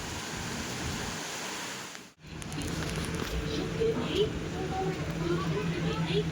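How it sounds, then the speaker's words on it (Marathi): Steady rain falls outside during the monsoon, a continuous soft hiss that breaks off briefly and then returns at a similar even level. "बाहेर बघा पाऊस चालू आहे"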